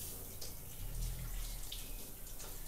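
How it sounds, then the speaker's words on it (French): A quick splash of water added in the oven while baking brookies, a soft, faint burst of hissing water lasting a couple of seconds. "Je vais mettre un petit coup d'eau."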